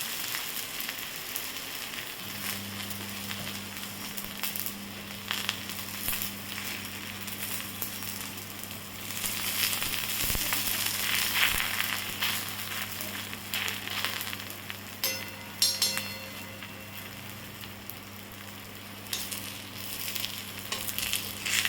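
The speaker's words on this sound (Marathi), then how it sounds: "पराठा आता याच्यावर टाकून घ्यायचा" Methi paratha frying in oil on a hot tava, a continuous close sizzle and crackle with a steady low hum from the stove, plus occasional scrapes and taps.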